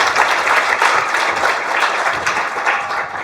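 An audience breaks into steady, dense applause to welcome a keynote speaker at a conference talk, the clapping loud and sustained with no one speaking over it.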